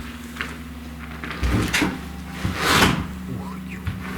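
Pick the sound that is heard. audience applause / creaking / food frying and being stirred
creaking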